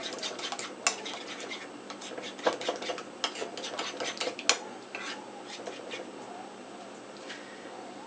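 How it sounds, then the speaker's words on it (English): A utensil clinks and scrapes against a bowl while egg yolk is mixed with honey for a homemade hair mask, giving quick irregular taps and stirring rubs, close and fairly crisp. "One yellow of the egg, just yellow part, and we need to mix it very good."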